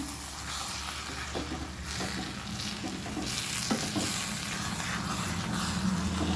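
Bitter gourd sizzles gently in oil over low heat while a spoon stirs and scrapes the pan, a steady soft crackle with intermittent scraping.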